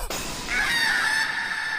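A cartoon chicken in an episode of the anime Farmagia gives a loud, drawn-out, honking squawk after a sharp start. It sounds close and stands alone, with no voices over it.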